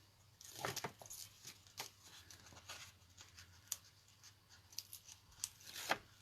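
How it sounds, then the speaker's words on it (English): Tape peeled off paper around all four sides of a scrapbook piece, quiet, close, sporadic scratchy rips and rustles. "Now we're going to take off this tape on all four sides"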